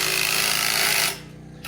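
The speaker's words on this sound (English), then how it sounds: "we drill the hole with a hammer drill, pre-drill" A hammer drill bores into concrete while a vaulted barn ceiling is being built: one loud, continuous rattling burst lasting about a second, then it cuts off into quiet.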